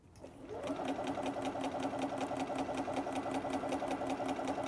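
A sewing machine runs a straight stitch along a fabric seam, locking it at the end: a close, steady mechanical whir with a rapid even needle clatter that starts abruptly and continues without pause.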